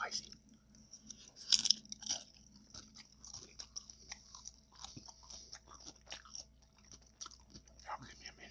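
Crunchy tacos being bitten and chewed close to the mic in a whispered eating session, with a few sharp crunches early on and softer chewing and mouth sounds after, faint voice sounds in the background.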